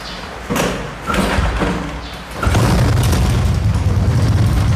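A Honda Wave 125S motorcycle with windshield-style turn signals starts with a few heavy thumps, then settles into a loud, steady, close engine rumble that runs continuously to the end.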